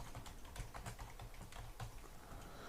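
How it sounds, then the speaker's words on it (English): Keys clack steadily on a computer keyboard as text is entered, a close, quiet run of soft, uneven taps with no talking over them. "Now here I'm just gonna type in some text."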